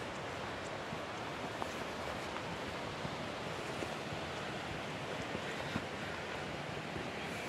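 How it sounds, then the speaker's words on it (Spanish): The Río Mundo waterfalls and water jets near Riópar roar as a steady, even wash of rushing water, soft and somewhat distant, with no voices. "Ya se ven por ahí los chorros de agua."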